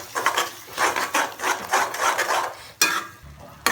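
An aubergine mixture is stirred in a pan over a low flame, a rhythmic scraping and rubbing of a utensil against the pan in repeated strokes, loud and close, with a sharper scrape near the end.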